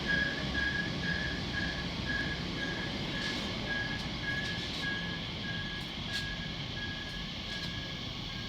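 A purple TfL Rail train bound for London Paddington from Terminal 5 pulls into West Ealing station on the Great Western Main Line. Faint, steady rumble comes with a repeated high whistle-like tone and a few light clicks, with no voices.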